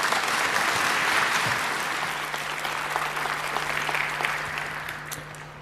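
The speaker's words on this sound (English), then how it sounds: "So give a warm hand of applause to Clifford Wolf." A conference audience at the 35C3 hacker congress claps steadily and warmly, the applause holding strong before slowly thinning out.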